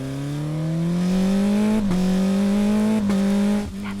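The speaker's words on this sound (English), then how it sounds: "That's the sound of a race car going vroom really fast." A race car accelerates hard on a racetrack, its engine note climbing steadily and loudly with two brief dips at gear changes before easing off at the end.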